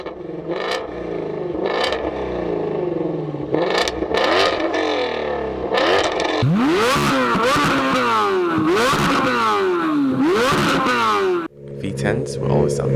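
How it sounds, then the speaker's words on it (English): A V8 car engine revs in a string of short blips, then swings into repeated rising-and-falling high revs with a rough, burbling edge; loud, close and continuous. "Can't forget about the V8s."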